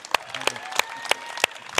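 A few separate hand claps for guest Jim, the NASA liaison on The Martian, at a panel about Kubrick's 2001: A Space Odyssey, sparse, evenly spaced and close.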